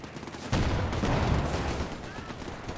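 Rapid gunfire and battle noise from a Company of Heroes 2 2v2 match, a dense burst erupting after a quiet half second and rumbling on steadily, fairly loud, with a voice talking faintly underneath.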